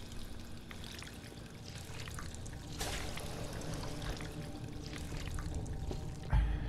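Healing water pours steadily in a video game, a continuous trickling stream that stays fairly faint and even for several seconds, with a brief louder burst near the end.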